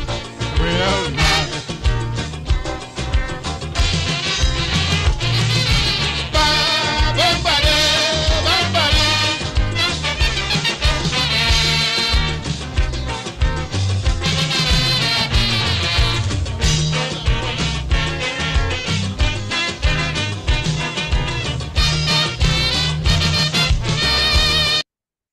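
A full-band song plays on radio at steady loud volume for about 25 seconds, with a dense mix of bass, drums and vocals and no talk over it.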